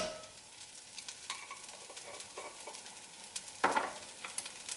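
Red lentil dhal spices with turmeric fry in a pot, giving a faint, soft sizzle with light scattered crackles and one brief louder stir or clatter near the end.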